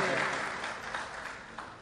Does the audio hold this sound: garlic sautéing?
no